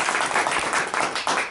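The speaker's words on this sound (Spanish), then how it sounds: "Un aplauso." An audience applauds steadily after a talk on the Russian Revolution and Latin America at Stockholm University, dense clapping filling the short stretch alone without pauses.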